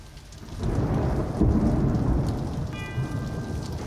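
Steady rain and rumbling thunder from a storm at sea, loud and continuous throughout with a brief tonal whine near the end and no voices.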